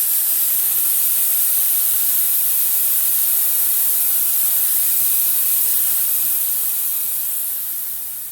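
Air rushing out of a tire inner tube through its open Schrader valve stem, a continuous loud, bright hiss that holds steady and tapers slightly toward the end, with no voices.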